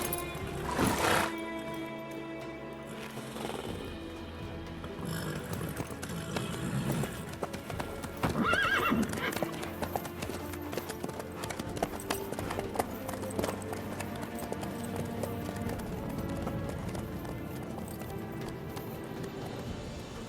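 Horse hooves clip-clopping steadily during riding in The Witcher 3, a continuous rhythmic trot under dialogue and game ambience.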